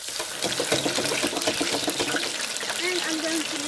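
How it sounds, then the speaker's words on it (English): Okra deep fries in oil with a dense, continuous hiss and crackle, close and fairly loud, while a voice murmurs faintly underneath. "fry the okra in deep oil"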